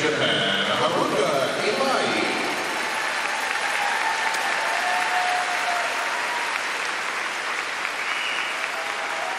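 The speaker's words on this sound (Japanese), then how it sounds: "一番のここまでの大歓声、大きな拍手の中で演技を終えました今井春。" Applause and cheering from a large crowd fill an arena after Haruka Imai's figure skating free skate at Skate America 2012, a steady, dense roar of clapping that holds throughout, with a voice briefly over it at the start.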